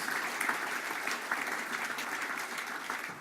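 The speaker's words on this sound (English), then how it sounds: "Can we give Nick a big round of applause?" An audience at a conference in New Zealand applauds, a steady wash of many hands clapping at even volume throughout, with a few sharper claps standing out.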